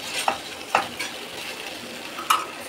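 Veg manchurian is stirred in a pan after coriander and lemon juice go in, with a few soft scraping strokes over a low, steady sizzle, close by and without speech.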